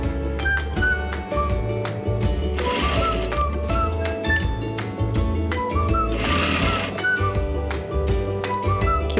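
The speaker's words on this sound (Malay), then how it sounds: "Pelajar perlu tarik getah ini bersama-sama dengan fabrik dan mulakan menjahit." A sewing machine stitches elastic together with fabric for a pajama waistband, running in a fast, steady mechanical chatter with rhythmic clicking that pauses briefly twice and then resumes.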